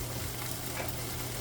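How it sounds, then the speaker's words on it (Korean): Onions stir-frying in a pan for Korean jjamppong, a steady soft sizzle with faint crackle, close and quiet, no voices. "불 조절을 조금씩 해주고 하면서 볶아줍니다"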